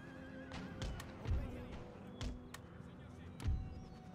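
Horses in the video game Empire: Total War whinny amid battlefield noise, with a few dull thuds and hoof clatter, faint and somewhat distant over a busy background.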